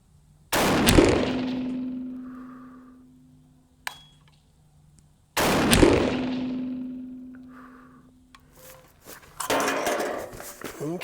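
Two sharp, loud .350 Legend rifle shots fired over a chronograph a few seconds apart, each with a long ringing decay, then faint handling clatter.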